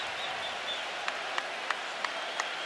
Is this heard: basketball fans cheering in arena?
yes